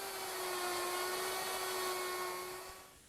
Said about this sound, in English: round over the edge with an overload cutter